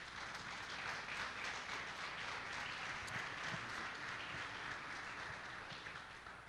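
A church congregation applauds during a celebration service, a dense, even wash of clapping heard at a distance and fairly faint, sustained for several seconds without speech.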